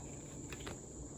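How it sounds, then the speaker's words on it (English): Cicadas buzz in a steady, continuous drone throughout, with a high whine that swells briefly twice midway, a constant insect chorus with no voices. "Sorry if you can hear the cicadas."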